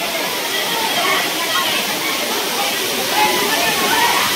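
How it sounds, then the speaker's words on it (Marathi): The waterfall at Ramling near Yedshi in Dharashiv makes a continuous roaring rush of falling water, loud and steady, with voices faintly mixed beneath it. "हीच ती धबधबा जी बघायसाठी लोक इथे येते ती"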